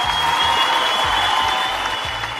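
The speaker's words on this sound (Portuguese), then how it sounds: "salva de palmas agora" A round of applause from a studio audience, a loud, even hiss of many hands clapping, steady from start to finish with a faint tonal hum running underneath.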